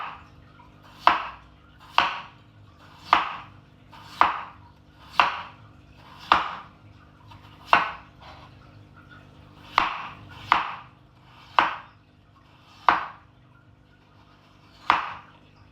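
Potatoes being sliced thin with a knife, about thirteen sharp, evenly spaced cuts close up, each landing as a crisp thud on a board in a steady, unhurried rhythm.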